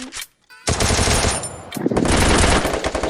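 Thompson submachine gun in the Free Fire video game fires a loud, sustained rapid burst after a brief near-silent gap, with dense crackling shots continuing to the end.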